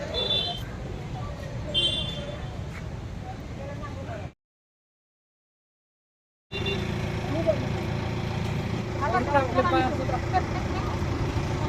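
A waiting AC bus idles outside Vadodara station, its steady engine rumble mixed with busy station-yard noise and people talking nearby. A brief silent gap interrupts it before the idling and chatter resume.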